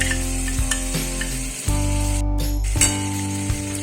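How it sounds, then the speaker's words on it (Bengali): Yogurt-based spice paste hits onions already fried deep red for a chana dal, giving a loud, steady sizzle with a few metallic clinks and stirring scrapes, and no talk. "এর মধ্যে আমি মশলাটা দিয়ে দেবো। দইয়ের সঙ্গে যে মশলাটা বানানো ছিল সেটা দিয়ে দিলাম।"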